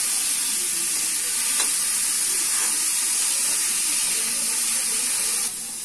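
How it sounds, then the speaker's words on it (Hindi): Onions fry on a medium flame in a pan for pav bhaji, giving off a loud, continuous sizzling hiss that softens slightly just before the end. "अनियन को हल्का सुनहरा होने तक भून लेंगे हम।"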